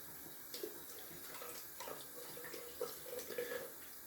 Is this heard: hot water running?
yes